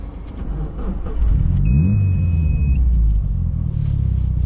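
A Mitsubishi Evo 7 engine cranks and catches on a cold day, then settles into a deep, steady rumbling idle close by, loud and continuous to the end.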